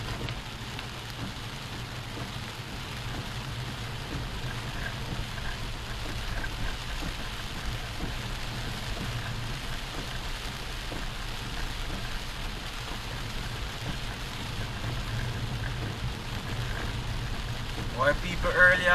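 Heavy rain pours steadily across Jamaica, a dense continuous hiss of drops on surfaces that stays at an even level throughout, with a slight swell toward the end.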